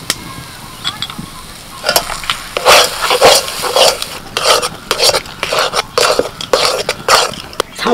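A spoon steadily stirs spices, salt, cumin and turmeric powder through a banana flower mixture in a pan, giving continuous close scraping and rhythmic rasping strokes with a faint sizzle beneath, loud and unbroken across the stretch.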